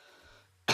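A single sharp cough from someone with a cold bursts out at the very end, loud and close, after a quiet stretch of low room hum.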